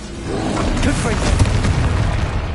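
Confringo spell explosion in the video game Hogwarts Legacy, a deep booming blast that rumbles continuously with crackling bursts, loud and close, with a voice talking over it.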